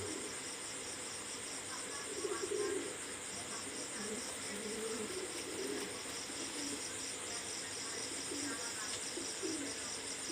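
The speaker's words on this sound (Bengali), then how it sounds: "এটা কিন্তু বন্ধ লেজের কবুতর" Pakistani highflyer pigeons coo faintly in soft low bursts, set against a steady, high, pulsing chirr of insects that runs throughout.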